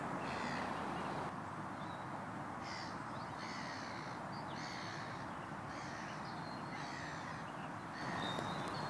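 A bird, likely a crow, calls near a fishing lake, giving a series of repeated caws spread across the span, moderately distant over a constant breezy outdoor hiss, with no speech.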